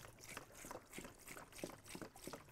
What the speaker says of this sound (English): I'm gonna go ahead and just pour this whole thing of EvapoRust